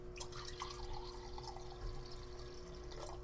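Fresh unfiltered honey mead called ambrosia pours quietly into a glass, a faint trickling and dripping stream heard up close with no talking.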